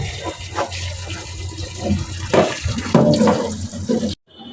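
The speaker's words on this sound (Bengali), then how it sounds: "এই তো এখন পরিমাণ মতো এখানে পানি দিয়ে দিল" Water poured into a cooking pot holding taro stolons and shrimp in a home kitchen, a splashing, sloshing pour lasting several seconds at close range, ending abruptly.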